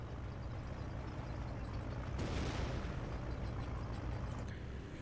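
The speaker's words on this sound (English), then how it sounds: "Heard some explosion over here" An airstrike explosion in Company of Heroes lands as a single muffled, distant boom that swells briefly and then settles back into a low, steady battlefield rumble.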